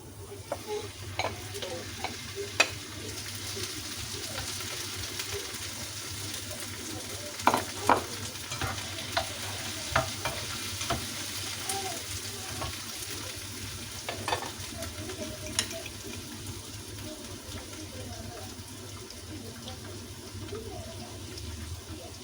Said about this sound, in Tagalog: Medyo brown na yung sibuyas. So ilalagay na natin yung kamatis.